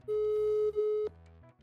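An unanswered phone call in a Minecraft game: a steady electronic ringing tone holds for about a second, pauses briefly, resumes and cuts off, leaving a soft low background hum.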